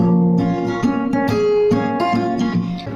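Acoustic guitar strummed in a steady rhythmic pattern, chords ringing bright and close with no voices.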